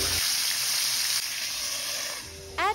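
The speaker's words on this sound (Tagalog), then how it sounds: "pag mainit na yung ating oil, start na nating iprito ang ating isda" Galunggong fish frying in hot oil in a pan, a steady, close sizzle and crackle that swells near the end as the fish is moved, with no voices.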